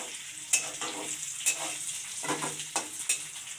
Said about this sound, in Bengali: পেঁয়াজটা তেলে দিয়ে ভেজে নিচ্ছি হালকা বাদামি করে ভেজে নেব